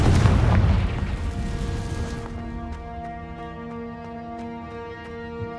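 A Confringo blasting spell in a Harry Potter video game erupts in one heavy, close boom that rumbles and fades over a couple of seconds into a sustained ringing, tonal tail.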